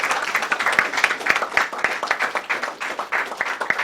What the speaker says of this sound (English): I think we should stand up and give this gentleman a resounding round of applause